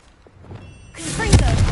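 Reparo repair spell cast in Hogwarts Legacy on PS5: near-quiet opening, then a swelling, shimmering magical burst with sweeping tones and a low thump near its peak.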